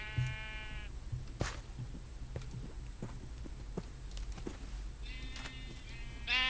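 Minecraft sheep bleat at the start and again near the end, with faint clip-clopping steps and soft thuds in between, no talking.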